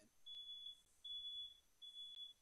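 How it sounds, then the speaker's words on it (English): A fire alarm beeping in a room, sounding three faint, long, high electronic tones at an even pace over a quiet background. "I think it's like a fire alarm or something"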